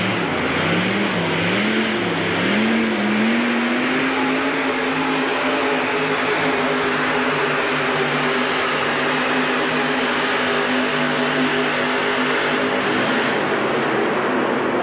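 A pulling truck's engine of several thousand horsepower roars at a 1989 USHRA truck pull in Pontiac, Michigan, revving up with a rising wavering pitch and then holding a loud sustained drone, with no talking.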